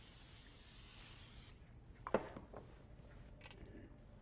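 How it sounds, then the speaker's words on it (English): Cooking spray hisses into a casserole dish in a home kitchen, a faint steady spray for about a second and a half, followed by quiet rubbing and light clatter. "spray your casserole dish really well with cooking spray"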